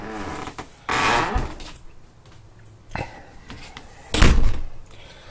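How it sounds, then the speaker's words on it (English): A solid bathroom door in a 2010 Heartland North Trail hybrid travel trailer closes, with a few sharp knocks and thuds spread over several seconds, the loudest near the end, close to the microphone. "Solid door for maximum privacy."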